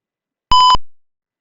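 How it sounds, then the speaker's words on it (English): A single short electronic buzzer beep from a UAV payload drop zone alert system, loud and steady-pitched, sounding alone against silence and fading quickly after it cuts off. "we look the pop-up of buzzer and you sound like tick tick"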